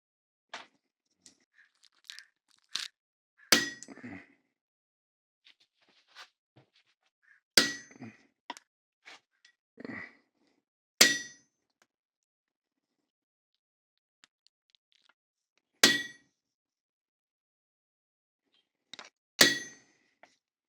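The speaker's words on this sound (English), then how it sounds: "a 2-ounce ingot of silver that I'm going to cut into 3 pieces and try to smash it to my will" A 2-ounce silver ingot being cut and hammered, sharp isolated metallic clinks and strikes spaced irregularly across near silence, with a few heavier blows standing out among lighter taps.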